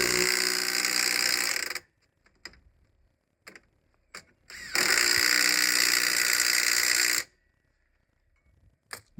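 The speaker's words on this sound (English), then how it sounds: "With the track rod end back in, I'm going to tighten those up." A power tool tightens the track rod end bolts on a Range Rover L322 in two loud sustained bursts. Sparse metallic clicks and taps fall in the quiet gap between them, and no one speaks.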